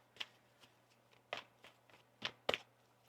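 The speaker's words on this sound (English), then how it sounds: "One more shuffle." Tarot cards being shuffled in quick, crisp riffles and taps, close up and fairly quiet, with a faint steady hum underneath.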